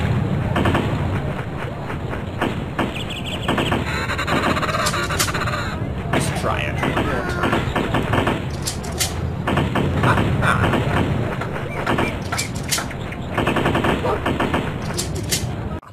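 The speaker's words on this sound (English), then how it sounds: "My shooting is exceptional this afternoon." Rapid gunfire from the video game Damn Birds 2, with dense bursts of shots over cawing birds, loud and sustained throughout, while voices speak in between.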